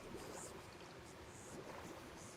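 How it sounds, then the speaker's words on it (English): Steady watery ambience from a SpongeBob-themed Fortnite setting with jellyfish, a soft continuous wash of flowing water, quiet and unbroken throughout. "You even got the water sounds, bro."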